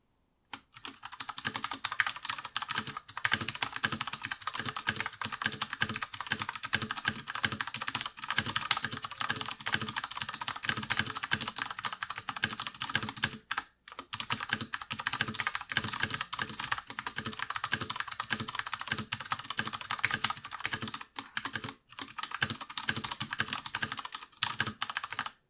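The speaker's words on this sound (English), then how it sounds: "let's throw in a typing test before I forget" Rapid, steady clacking of keys on an IQUNIX F96 wireless mechanical keyboard during a typing test, continuous and close for about 25 seconds with only brief pauses and no talking.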